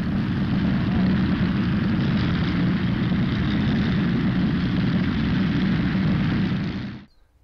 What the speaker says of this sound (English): they were replaced by the drone of heavy bombers